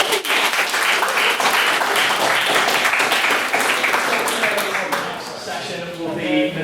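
Sustained, loud audience applause at a school debate session on supervised injecting centres, steady dense clapping throughout with voices mixed in, tapering slightly near the end.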